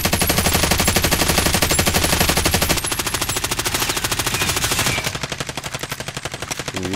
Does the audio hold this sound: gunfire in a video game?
yes